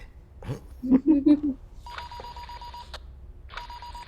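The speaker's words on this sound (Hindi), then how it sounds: "फोन बज रहा है" An electronic telephone ring sounds twice, a steady buzzing trill with a short pause between, after some brief voice-like noises at the start.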